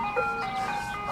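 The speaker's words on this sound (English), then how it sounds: "we have an ice cream truck driving by" An ice cream truck rolls past playing its melodic jingle, the tune steady and moderately loud over a constant engine and street hum, with no one talking.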